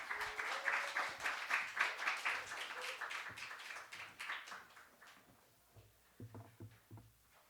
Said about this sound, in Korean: 오늘 강사님 나올 때 우리 큰 박수로 환영을 하도록 하겠습니다.